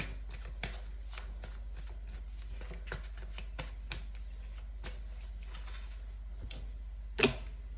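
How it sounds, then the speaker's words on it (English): Tarot cards are shuffled and pulled, making a quick stream of light papery flicks and taps with a sharper snap near the end, close and fairly quiet over a steady low hum. "I'm gonna pull one more card and see like how they are viewing you right now."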